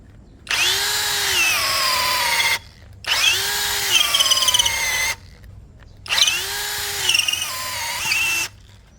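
DCA ADJZ1203E cordless brushless drill running at high speed in three separate bursts of about two seconds each, a whining motor that ramps up, holds steady and cuts off, close and loud with no talk.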